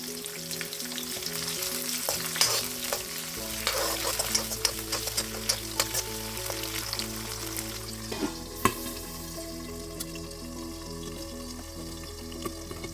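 Sliced okra and green chillies fry in a pan with a steady, dense sizzle, broken by occasional scrapes and clinks of stirring, with no talking.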